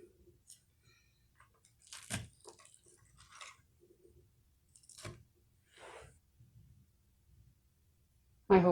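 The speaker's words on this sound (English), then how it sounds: "I don't know if you can hear the crunch. It is very crispy." Crispy food topped with sour cream and green onion being bitten and chewed close up, a few faint, sparse crunches separated by quiet gaps.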